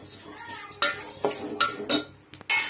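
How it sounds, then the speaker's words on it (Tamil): Sesame seeds are dry-roasted in a pan for ellu urundai, with a close, irregular run of scraping stirs and light clinks as the seeds are moved, and some faint crackling between strokes. "பாருங்க ஃப்ரெண்ட்ஸ், நல்லா பொரியிற சவுண்டு கேட்குது"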